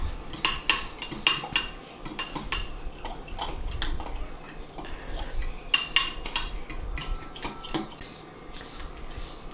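A metal utensil stirs food in a pan, giving repeated scraping and clinking strokes at a steady pace, close by and with no talking.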